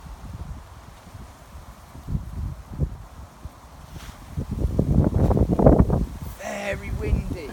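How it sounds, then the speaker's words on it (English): Gusts of wind rumble against the microphone outdoors by a river, quiet at first and then building into louder buffeting toward the end. "Very windy."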